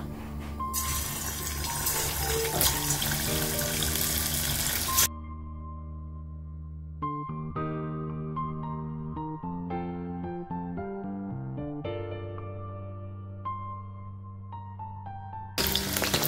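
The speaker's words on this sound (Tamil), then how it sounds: "எண்ணெய் வந்து நமக்கு சூடாயிடுச்சு இப்போ வந்து நம்ம ஊற வச்சு சிக்கனை போட்டு எடுத்துக்கலாம்" Marinated chicken for chilli chicken dropped into hot oil, giving a steady, loud, close sizzle for about five seconds. Music then takes over, and the frying hiss briefly returns at the very end.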